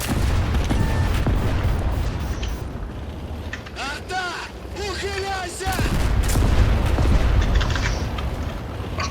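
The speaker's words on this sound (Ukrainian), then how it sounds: "Ухиляйся! Артилерія! Праворуч!" Rumbling artillery booms and bursts of gunfire roll through a noisy World of Tanks battle, with brief whistling shell sounds in the middle and a loud continuous din throughout.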